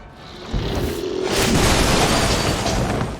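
Explosion tearing through a diner and smashing its windows in the XCOM 2 War of the Chosen game, a loud boom at about half a second followed by a sustained crashing, shattering roar that fills the rest of the moment.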